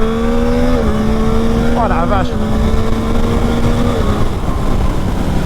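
A 2021 Yamaha MT-09 motorcycle pulls away in second gear, its engine note rising steadily and loud up close, with a brief gear change partway through and a rider's excited exclamation over the revs.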